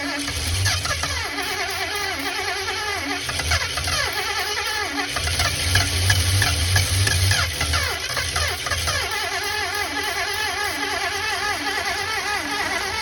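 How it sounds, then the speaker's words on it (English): An engine keeps running after the key is turned off because its starter is stuck, giving a steady mid-pitched mechanical drone with a grinding, whirring edge that surges louder for a few seconds partway through. "the engine sounds a little weird. I turned the key off, but the starter was stuck"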